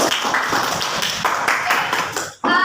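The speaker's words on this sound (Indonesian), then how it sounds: "Oke, silakan beri tepuk tangan." Classroom applause from a group of lower secondary maths students, a dense patter of many hands clapping steadily for over two seconds before cutting off abruptly near the end.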